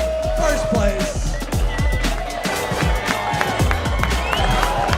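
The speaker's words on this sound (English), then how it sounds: "Big round of applause." Lively applause with cheering from a crowd at the 45th St. Maarten Heineken Regatta awards, dense clapping close by and steady throughout, with a few shouts mixed in and a music-like tone underneath.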